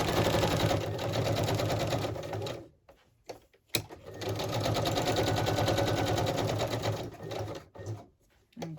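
A sewing machine runs in steady fast stitching bursts, pausing briefly in the middle and again near the end, loud and close.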